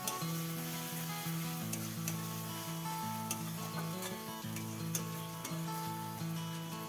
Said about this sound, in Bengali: আদা রসুন কাঁচা লঙ্কা দিয়ে ভালো করে এবার পেঁয়াজের সাথে মিশিয়ে নিয়ে খুব ভালো করে একটু কষিয়ে নেবো